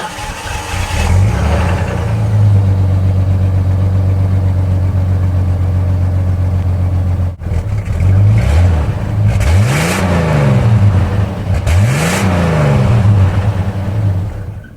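Loud, close engine of a 1989 Jeep Cherokee at an emissions test, holding a steady idle, then after a brief break revving up and dropping back several times in rising and falling sweeps.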